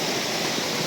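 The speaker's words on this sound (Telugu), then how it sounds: "Finally we found another hidden చిన్న వాటర్ ఫాల్ అనమాట, చిన్న కాలువలోనే." A small hidden waterfall spilling within a narrow stream on a forest route near Sahasrakund, a dense, even rushing roar of falling water, close and loud with no voices.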